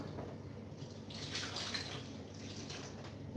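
Water poured from a container into blended peppers in a cooking pot, a steady soft splashing pour running throughout at moderate loudness, with no talking.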